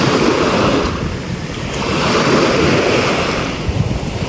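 Steady wash of ocean surf with some wind buffeting the microphone, continuous and fairly loud, with no voices.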